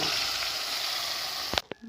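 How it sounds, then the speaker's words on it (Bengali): Fish sizzle loudly in hot oil in a pan, a steady close frying hiss that cuts off abruptly near the end, followed by a couple of brief clatters. "তেল আমার ভালো রকম গরম হয়ে গেছে আমি এবার এই দেখো মাছগুলো আমি ভাজা"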